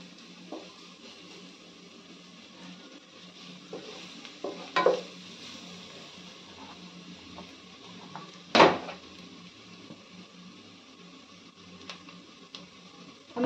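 Grated garlic frying in a pan with lightly browned onions for mutton rezala, a low continuous sizzle with a few sharp spoon knocks, one especially loud clack midway, close and unaccompanied by speech.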